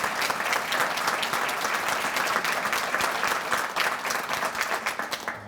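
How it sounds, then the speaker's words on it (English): A dinner crowd at a chamber of commerce 90th anniversary dinner breaks into steady applause, with crisp individual claps audible in a continuous, moderately distant patter lasting several seconds. "So if we could just give them a round of applause too."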